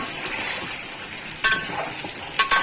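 Chicken pieces fry in a pan with ginger and garlic for achar gosht, giving a steady close sizzle with a couple of brief stirring clatters near the end.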